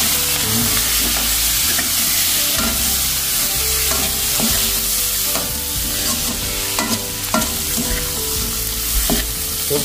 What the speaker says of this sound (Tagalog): Dinagdagan pala natin ng butter para mas masarap, mas marami. Igisa na po natin yung ating sugpo.